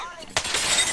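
Glass shattering in an online video game, one sudden sharp crash with a short tinkling tail, heard during energetic team voice chat.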